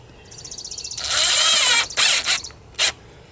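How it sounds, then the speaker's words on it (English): Short drywall screws being driven into a small wood block, a whirring, ratcheting mechanical buzz that builds for about a second, then breaks into a few brief separate bursts, close and fairly loud with no talking. "I'm just going to screw that into the wood block."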